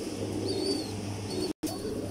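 Pigeon cooing among a flock, with soft repeated low coos and a few higher chirps close by over steady background hum, broken by a brief dropout of silence.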